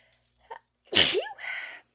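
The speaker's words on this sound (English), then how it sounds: "I'm going to sneeze here in just a second." One loud sneeze bursts out close by after a couple of soft breaths, trailing off into a brief exhale.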